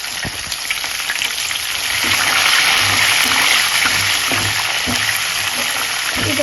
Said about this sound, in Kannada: ಈಗ ಈ ಹಸಿಮೆಣಸಿನಕಾಯಿನ ಸ್ವಲ್ಪ ಎಣ್ಣೆಯಲ್ಲಿ ಫ್ರೈ ಆಗಿಬಿಡಬೇಕು